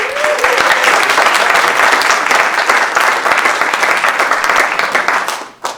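A tribute concert audience gives a bass player a loud, sustained round of applause, many hands clapping steadily before it tapers off abruptly at the end.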